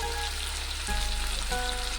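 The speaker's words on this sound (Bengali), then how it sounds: "টমেটোটাকে দিয়ে কিছুক্ষণ নেড়ে চেড়ে রান্না করে নিয়েছি।" Chopped tomatoes fry in a pan while being stirred, cooking toward a prawn and cabbage dish. The result is a soft, steady, fairly quiet sizzle with slight scraping shifts.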